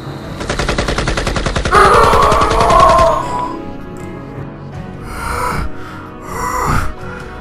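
A modified AR-17 rifle in Shadow the Hedgehog fires a loud, rapid machine-gun burst lasting about three seconds, mixed with a shout, before it fades into quieter effects and vocal grunts.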